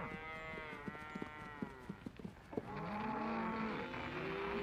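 Cattle near Yellowstone mooing: several long, low lowing calls, some overlapping, with soft clopping hooves and shuffling in the herd at moderate distance.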